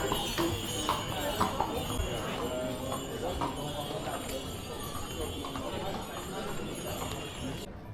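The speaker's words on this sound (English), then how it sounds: "Nice to see a horse instead of a donkey." Horse hooves clip-clop along a street in the white hillside town of Mijas, Spain, a steady run of hoof strikes carried under continuous talk and general street bustle.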